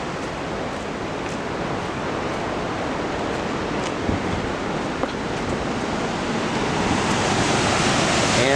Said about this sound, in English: Some rapids going, but the falls should be right over here.